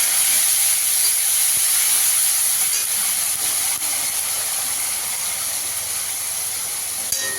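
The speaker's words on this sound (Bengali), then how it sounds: "এখানে টমেটোটা দিয়ে দেবো" Grated tomato hits hot tempering oil for a paneer moong dal curry, giving a loud, steady sizzling hiss that holds evenly close up and eases only slightly over several seconds.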